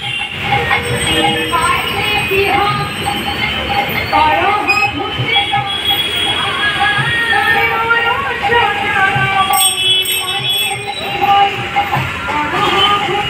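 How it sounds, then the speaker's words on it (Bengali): Metro train at a busy Kolkata metro station, loud continuous rumble of carriages with metallic wheel squeals and rattling clatter, close by and filling the whole span, station ambience underneath. "তো এটা মেট্রো স্টেশন।"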